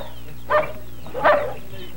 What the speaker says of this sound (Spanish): Se entrenan perros para que puedan detectar drogas.